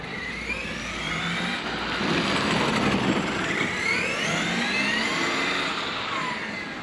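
A large-scale petrol RC rally car engine, the MCD XR5, buzzes loudly and continuously with rising and falling revs, close up and with no voices.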